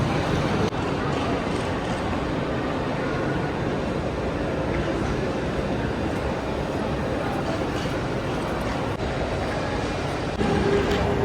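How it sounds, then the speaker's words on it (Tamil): Steady, loud rumbling roar of a train rolling into a large Swiss railway station, continuous throughout with a slight rise near the end. "இந்த ஒரு ட்ரெயின் ஒன்று வருது பாருங்க"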